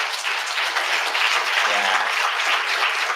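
Audience clapping for forum panel members at an anti-corruption day event, a sustained even wash of applause, fairly loud and continuous with a faint low murmur beneath.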